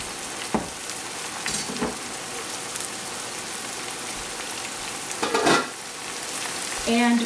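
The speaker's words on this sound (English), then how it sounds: "once it starts sizzling like this" Steady crackling sizzle of ginger and garlic frying in a hot pan, with a few louder clatters of stirring and no voices.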